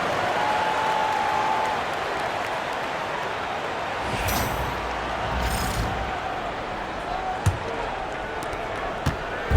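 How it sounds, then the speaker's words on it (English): Basketball crowd applauding during a Chicago Bulls game timeout, a broad steady wash of clapping and cheering filling the arena, with a couple of brief louder bursts and a sharp knock near the end. "Give them a round of applause."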